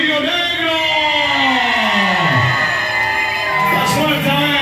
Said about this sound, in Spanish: Las fuerzas a ver, el grito por el Tornillo Negro